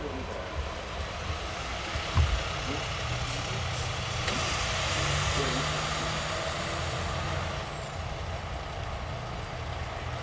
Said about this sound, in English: that FPL truck riding by